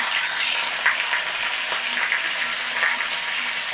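Cauliflower florets frying in oil in a pan while cooking gobhi matar kurma, a steady continuous sizzle with faint crackles, moderately loud and close, with no talking.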